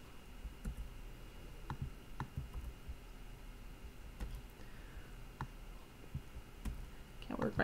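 Scattered keyboard key clicks tap irregularly at a quiet level, with a brief louder rustle near the end.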